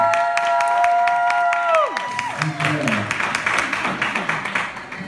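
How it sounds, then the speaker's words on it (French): An indoor audience at an evening event applauds, a dense wash of clapping that stays fairly loud throughout, with a held musical tone fading out early and scattered cheers rising over the steady claps. "s'il vous plaît, applaudissez-la encore une fois"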